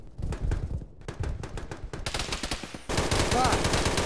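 Rapid automatic gunfire in the military shooter game Arma, repeated bursts of sharp shots with short gaps, then a louder, denser stretch of continuous firing mixed with ambient battle noise.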